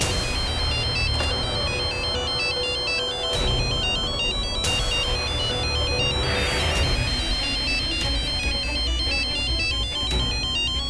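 A telephone ringtone plays continuously inside a house, a bright repeating electronic melody that fills the whole stretch at steady volume.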